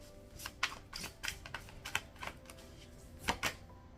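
Tarot cards riffle and snap in a series of crisp, quiet bursts, several separate shuffles spaced unevenly over a few seconds with soft rustling between them, close by and with no talking.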